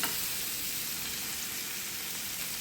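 White pomfret fish frying in a pan on medium flame, giving a continuous, close, even sizzle with no talking.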